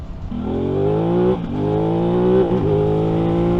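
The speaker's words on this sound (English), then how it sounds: "Oh, fluffed the gear change there." A 2021 Aprilia RS660 motorcycle accelerates hard with a loud, rising engine note, briefly dipping at a quick-shifter gear change before climbing again, heard close and steady without talk.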